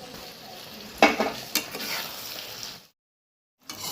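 Eggs frying in spicy poppy seed masala in a pan, a steady sizzle with a few scraping stirs and clinks of a utensil, then sudden silence before the sizzle returns.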